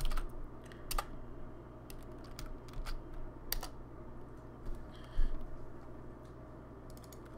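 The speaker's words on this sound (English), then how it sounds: "Oh, it's because I type." Someone types on a computer keyboard, a quiet, irregular run of key clicks with small pauses and a few louder taps.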